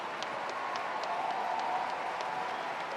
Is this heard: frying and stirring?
no